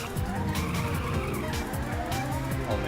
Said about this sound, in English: I do not remember how to drift at all in this game